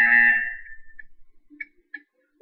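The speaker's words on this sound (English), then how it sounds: "You will hear a buzzer. When you hear the buzzer, stare at the art." A buzzer in the Portal 2 video game: one loud, bright electronic buzz that sounds at once and fades after about half a second, followed by a few faint, short electronic blips.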